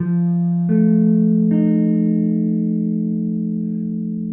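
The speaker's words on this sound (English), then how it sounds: "we're going to start out on an F dominant 7th chord" A sustained F dominant 7th chord on electric guitar rings out clean and steady, restruck twice within the first couple of seconds, then decays slowly with no talking.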